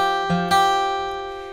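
Acoustic guitar tab phrase in open position, fretted notes on the 4th and 1st strings, with two plucked note attacks ringing into a sustained, slowly decaying chord, played close and alone.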